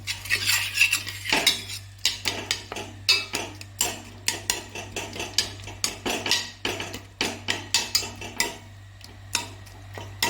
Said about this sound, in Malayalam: തക്കാളിയൊക്കെ നല്ലപോലെ വെന്തിട്ടുണ്ടെങ്കിൽ നമുക്കിത് നല്ലപോലെ ഒന്ന് ഉടച്ചു കൊടുക്കാം